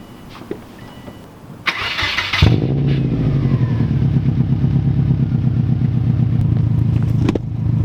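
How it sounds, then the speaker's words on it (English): A car engine cranks and fires, then settles into a steady, throaty idle and drive rumble through its exhaust, loud and close, with a brief rev near the end and no speech. "Still sounds pretty good, but I still would love to adjust the exhaust on this"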